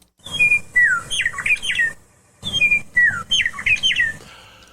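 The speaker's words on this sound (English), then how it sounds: "give a listen to the meadowlark" Meadowlark on the prairie singing two bright, fluting phrases of slurred whistles and warbles, loud and close, separated by a short pause with soft background hiss.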